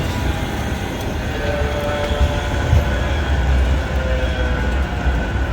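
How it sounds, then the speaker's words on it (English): A Manchester Metrolink tram rumbles steadily past, a continuous low rolling drone with faint rail squeal, close and fairly loud, no voices. "I've got a feeling this tram's going to be full as well."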